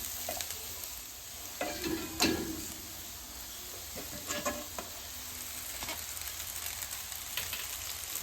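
A spoon works through semiya upma with carrots in a pan, making intermittent scraping stirs over a soft, continuous sizzle, close and fairly quiet.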